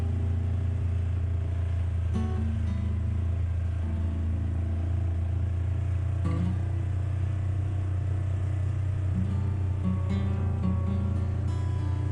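Polaris RZR off-road side-by-side engine droning steadily and loud throughout, with a deep constant rumble and a few brief throttle swells and clatters, no talk.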